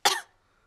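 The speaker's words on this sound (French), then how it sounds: "Mais regardez ce qui se passe quand je tousse." Cartoon pig coughing once in a short, sharp burst that trails off quickly into near silence, close and fairly loud, alone with no talk.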